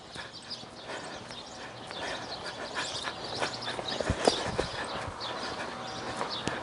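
Steady rhythmic hoofbeats of a horse loping on soft arena ground, muffled thuds repeating under a constant background hiss, moderately distant.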